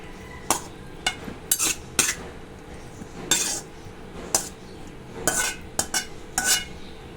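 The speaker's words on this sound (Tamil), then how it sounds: "எல்லாத்தையும் வேறு ஒரு பாத்திரத்துக்கு நம்ம மாற்றி எடுத்துக்கலாம்." Cooked raw banana pieces being spooned from one pot into another, giving a run of sharp metal clinks and scrapes in irregular bursts, close and fairly loud, with no talking.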